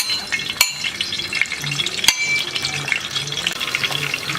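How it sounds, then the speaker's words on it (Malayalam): Green chillies sizzle and crackle steadily in hot coconut oil in a pot over a village wood-fired stove, with two sharp clinks or drops standing out against the continuous spitting fry. No one speaks. "എണ്ണ നല്ല ചൂടായി. അപ്പോൾ പച്ചമുളക് ഇട്ട് കൊടുക്കുക."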